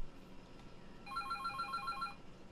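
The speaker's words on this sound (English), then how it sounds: "Great, the phone's ringing." Telephone in a Feed the Beast Ultimate modded game ringing in one short, quick-trilling electronic burst, faint, above a low background hum.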